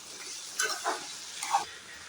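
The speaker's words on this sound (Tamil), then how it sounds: "தக்காளி வதங்கும் போதே காரத்துக்கு ஒரு அஞ்சு காஞ்ச மிளகா போட்டுக்கோங்க" Tomatoes and about five dried red chillies sauté in a pan for a brinjal chutney, a soft steady sizzle with a few brief stirring scrapes, close and fairly quiet, no voices.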